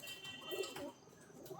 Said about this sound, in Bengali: দুটোই নর পায়রা আছে এখানে।